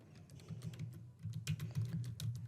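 Fingers type a message on a computer keyboard, quiet rapid key clicks in an irregular stream, close and alone with no talking.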